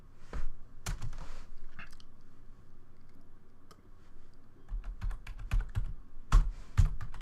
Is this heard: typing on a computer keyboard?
yes